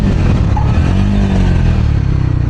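A Triumph Scrambler 400 X motorcycle engine braking on the road, a loud close steady engine drone with a low rumbling tone that gradually shifts pitch, alongside wind rush and light mechanical clatter.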